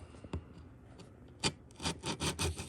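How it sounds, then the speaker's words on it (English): A small auger bores a hole into a dried sedum stem being shaped into a model tree for a slot car layout, giving faint, brief scraping twists that quicken into a short run of grinding strokes. "Get the auger in here."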